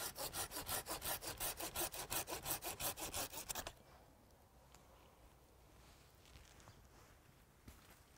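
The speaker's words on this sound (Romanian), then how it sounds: "voi secționa această prelungire a axului transversal cu ajutorul unui fierăstrău" A hand saw cuts through a Dobrogea date tree graft branch in rapid rhythmic back-and-forth strokes for about three and a half seconds. Quiet handling noises follow.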